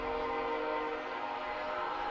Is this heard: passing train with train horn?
yes